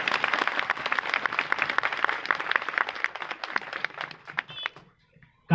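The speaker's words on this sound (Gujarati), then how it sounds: "આ તાળીઓ ઓછી છે એનાથી પણ વધારે તાળીઓ થવી જોઈએ જોરદાર." Crowd applause at a Mahindra pickup unveiling event in Mehsana, dense clapping from many hands that swells, then thins out and fades near the end before a sudden loud burst.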